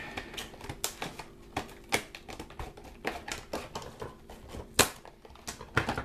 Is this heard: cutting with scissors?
yes